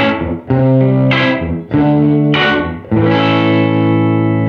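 An electric guitar runs through a Fender Reflecting Pool reverb pedal on its room setting. Distorted chords are strummed in a few loud, ringing strikes, each followed by a short roomy decay, with no talking.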